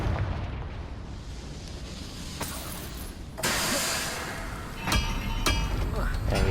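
Confringo fire spell from the game Hogwarts Legacy bursts as a loud explosive blast over steady game ambience, followed by a second sharp boom a moment later.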